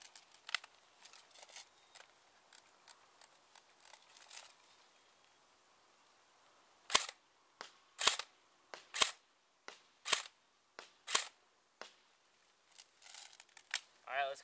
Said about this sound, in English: And I'm going to take 5 shots on semi